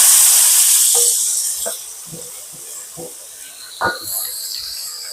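Sliced cucumbers hit hot oil and fried garlic in a pan, giving a loud bright sizzle that fades into softer crackling and a few sharp clatters and stirring knocks, with no speech.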